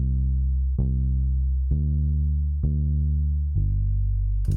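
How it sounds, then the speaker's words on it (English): A vintage soul bass preset from Logic's stock instruments, played in mono, plays a steady line of four or five sustained low notes following the chord roots, warm and loud with no voices. "For the bass, I used this vintage soul bass preset."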